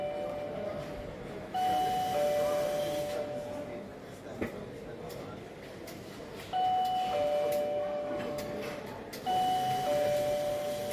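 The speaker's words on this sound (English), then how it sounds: "Now when you ring the bell, you will get a notification on your phone." Video doorbell chime sounding three times, each a steady ringing tone lasting a second or two, over a constant background hum of room noise.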